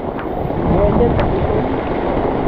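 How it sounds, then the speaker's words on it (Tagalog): Steady wind buffets the microphone with a constant broadband rush, a faint voice underneath. "Bumaliktad na naman ang hangin."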